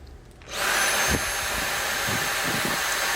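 A Dyson cordless vacuum cleaner switches on and runs with a steady, loud whine and airy roar, holding constant after a quiet start.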